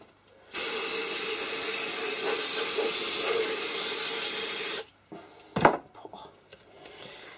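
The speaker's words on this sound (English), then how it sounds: "Again, I'm going to use the spray release." Aerosol mould release sprayed over a silicone baby doll mould in one steady, close hiss lasting about four seconds, then cutting off, followed by faint handling noises.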